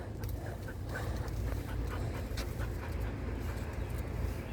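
A dog pants steadily and close by in tall grass outdoors, the rapid breathing continuous throughout without barking or talk.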